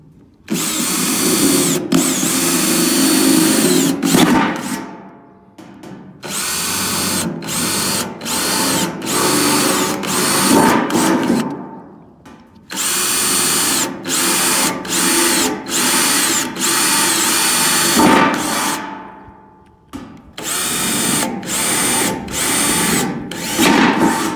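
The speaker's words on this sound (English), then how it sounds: "So it is fairly thin, so I used a 3/16 drill bit on this." Power drill fitted with a 3/16 bit boring drainage holes through a thin repurposed planter, about a foot deep and 16 inches long: three long, loud, steady whining runs separated by short pauses, with brief stop-start bursts near the end.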